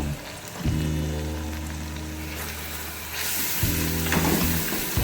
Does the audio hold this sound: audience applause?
no